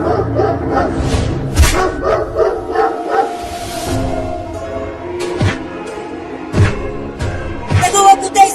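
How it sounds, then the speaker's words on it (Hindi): Several dogs bark and yip in front of a wooden house, with repeated sharp barks scattered over several seconds amid background music and other animated sounds. "वो कुत्ते उस लकड़ी के घर के सामने भौंक रहे हैं,"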